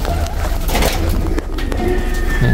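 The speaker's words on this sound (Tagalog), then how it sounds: "Ito yung ice pigeon." Ice pigeons and blue bar pigeons coo among a large flock at feeding time, a steady low cooing murmur running through the whole stretch with scattered wing and movement noise.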